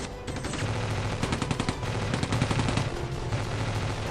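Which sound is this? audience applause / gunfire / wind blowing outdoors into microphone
gunfire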